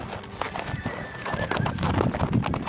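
Horse hooves clop in an uneven rhythm while a horse whinnies at a dude ranch, with a faint voice in the background and a bustling outdoor feel.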